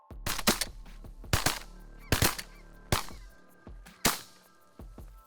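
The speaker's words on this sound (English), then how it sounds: "Snow geese, the Canadas," Snow and Canada geese honk during a Manitoba waterfowl hunt, punctuated by about five sharp, loud bangs spaced roughly a second apart over the field.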